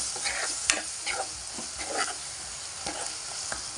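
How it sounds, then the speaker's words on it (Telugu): Turmeric being stirred into a sprout curry in a pan, with a steady soft sizzle under repeated spoon scrapes and taps that come every half second or so, close and moderately loud. "1 స్పూన్ పసుపు వేసుకొని కలుపుకుందాం"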